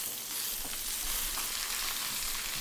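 A steak fries in a hot pan with a dense, steady sizzle and crackle, close and continuous, occasional stirring scrapes, no voices.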